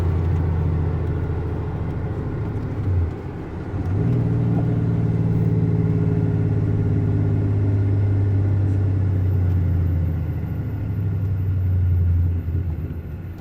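An exhaust on a car rumbles loudly from inside the cabin while driving, with a deep steady drone that dips and then swells again around a downshift, with faint popping under the roar and no talking.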